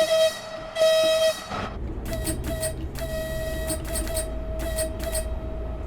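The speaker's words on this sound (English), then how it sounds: "But the horn is cooler." A ČD Class 843 diesel railcar sounds its horn in two long blasts, followed by rhythmic pulsing clacks over a steady engine drone.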